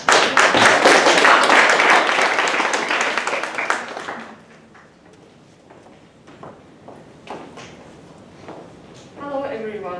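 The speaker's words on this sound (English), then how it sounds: "Let's give her a round of applause." A school speech-contest audience claps loudly and densely for a few seconds, then the applause thins and fades into scattered claps and quiet room noise.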